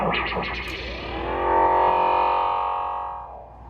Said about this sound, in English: throw a delay on, and then I can adjust the time of it right there